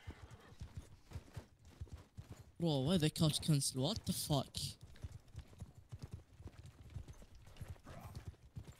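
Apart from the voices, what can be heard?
horses in battle, from a video game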